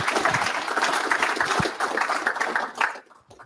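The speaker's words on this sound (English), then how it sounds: "let's give all of our presenters another big round of applause." A meetup crowd gives the evening's Angular presenters a dense, lively round of applause that holds for about three seconds, then quickly dies away to a few scattered claps.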